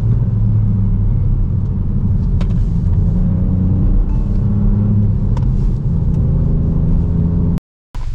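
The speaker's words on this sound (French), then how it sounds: "sa petite pétarade là à 3000 tours" Ford Puma ST engine droning loud and steady from inside the car while driving, a deep rumbling hum with faint intermittent pops and crackles, cut by a brief dropout near the end.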